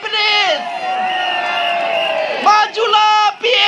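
A large crowd at an election rally for the People's Action Party in Tampines, Singapore, cheers loudly and continuously with whoops and shouts. The roar briefly dips near the end before surging again.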